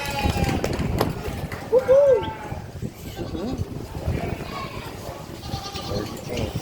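Several goats bleat amid crowd noise and a loud announcer's voice at a livestock show, one wavering bleat standing out clearly.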